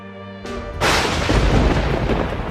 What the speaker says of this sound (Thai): เสียงฟ้าผ่าดังเปรี้ยงลั่นลงในสุสาน